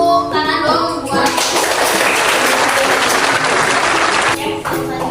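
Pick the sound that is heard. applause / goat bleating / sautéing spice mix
applause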